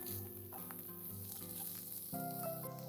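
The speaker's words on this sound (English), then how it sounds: "Saute the garlic paste for a few seconds." Garlic paste sautéing in oil in a pan, a faint, steady sizzle with soft crackles and a few light stirring touches, close and without talk.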